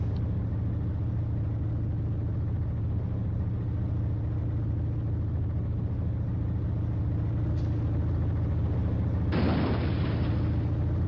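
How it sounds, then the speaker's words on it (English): Steady low engine rumble from a vehicle in BeamNG, with a brief click partway and then one sudden loud cannon shot near the end, its wide blast hanging briefly before fading. "this cannon is giving me a weird sense of control"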